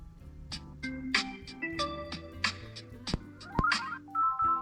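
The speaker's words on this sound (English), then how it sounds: "set up a custom ringtone or song for each contact" A melodic Samsung Galaxy S23 Ultra ringtone plays a bright run of synthesized notes and chords, fairly close and clear, with no one talking.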